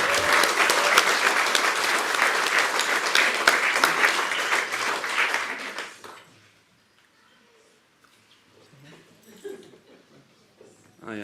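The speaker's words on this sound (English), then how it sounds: "Can we get one more round of applause for everyone who's got an award tonight?" A round of applause for award winners at an annual town meeting, loud and dense for about six seconds before dying away, followed by quiet room sounds and faint voices.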